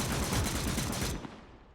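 Gunfire on a WWII Eastern Front battlefield in Call to Arms: Gates of Hell, a dense sustained fusillade of rifle and machine-gun shots, loud and continuous, then cutting off and trailing into fading reverberant rumble.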